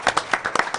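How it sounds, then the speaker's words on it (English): A short burst of hand clapping from an audience at a board of education meeting, with brisk overlapping claps. "Another round of applause."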